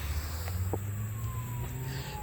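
A police siren wails far off in the background, a thin tone slowly sliding under a steady low outdoor hum and a few faint clicks.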